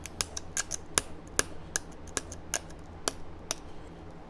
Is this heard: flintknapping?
yes